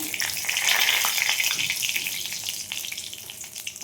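Cumin seeds and whole garam masala sizzling in hot oil, a loud, close, bright crackling fry that swells at first and stays steady, with faint scraping underneath.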